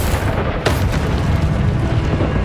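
A Confringo spell blast in Hogwarts Legacy, a sudden booming explosion that bursts early and rumbles out under a dense layer of combat noise.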